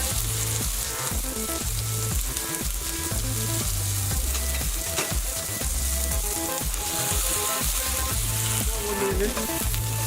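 Beef sizzles steadily in a hot pan, a continuous close frying hiss beneath a rhythmic background music track.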